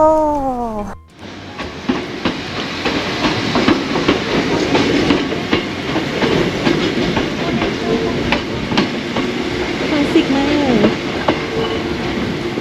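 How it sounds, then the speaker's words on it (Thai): A train running on rails near a station in Hakone, Japan, passes close by with a steady rumble and rhythmic clickety-clack, a brief high wheel squeal at the start and occasional metallic squeaks through the run. "เป็นรถไฟนะคะ"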